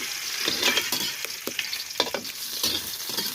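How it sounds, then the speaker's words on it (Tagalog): Kikiam (Filipino fish balls) sizzling in a hot pan while being stirred, steady frying crackle with repeated scraping stir strokes, close and moderately loud, no talking. "haluin natin ang ating kikiam."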